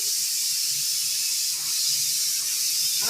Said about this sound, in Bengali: আর এটার মধ্যে ডাল সিদ্ধ করছি